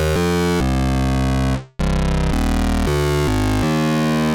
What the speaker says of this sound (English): some really gnarly digital sounding distorted bass sounds